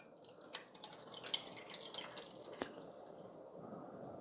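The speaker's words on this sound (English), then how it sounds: "Let's pour the water in the top here." Water is poured into the top of an Ontel Arctic Air Pure Chill 2.0 evaporative cooler, giving a faint trickle with scattered small drips and splashes, quiet and without talk.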